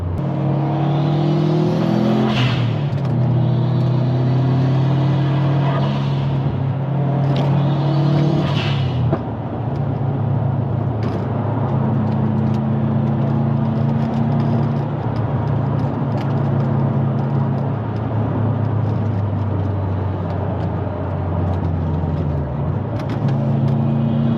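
A 400-horsepower Subaru WRX drives on mountain roads. The engine rumbles loudly and steadily, with a few revving surges early on, and continuous road and wind noise runs underneath, with no talking.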